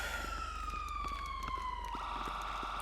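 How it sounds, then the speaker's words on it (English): A police car siren wails in the LSPDFR police game, a steady sweeping tone that slides downward, loud and continuous against a low engine drone, with no talking. "I'm going to go ahead and cut our sirens off here in 1 second."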